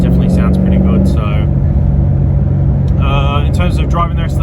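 The engine of a Holden wagon, freshly upgraded for more power, runs with a steady, loud low rumble, while a voice talks over it for most of the stretch.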